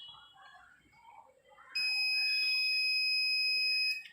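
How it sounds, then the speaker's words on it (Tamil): A multimeter's continuity buzzer sounds on a shorted coil of an HP Envy x30 convertible laptop: after soft background noise, one loud, steady high beep holds for about two seconds, then cuts off. "ப்ரோப் வைக்கிறேன் பாருங்கள், பஸர் அடிக்கும்."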